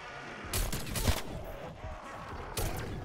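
Dual Magnum Akimbo pistols fire in a video game: a few sharp, loud bursts of shots at irregular intervals over a low, noisy game background.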